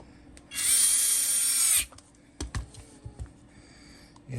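Cordless driver whirs steadily for about a second as it sinks a screw into a Harbor Freight flashlight, followed by a few light handling knocks and clicks, close up with no talking.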